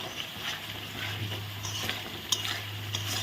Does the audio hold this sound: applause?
no